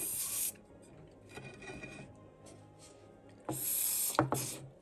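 WD-40 water displacer sprayed from an aerosol can onto a water-damaged Mini key circuit board, two hissing bursts, a short one at the start and a longer one near the end, close by and fairly loud.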